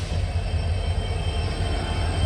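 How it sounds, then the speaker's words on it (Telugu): Steady heavy rumble of a goods train hauled by five locomotives climbing a ghat near Dudhsagar, deep low-end drone with constant mechanical noise, close and loud, then it cuts off abruptly. "5 లోకోమోటివ్ లాగుతుంది ఇది నీ గూడ్స్ రైలు అయితే"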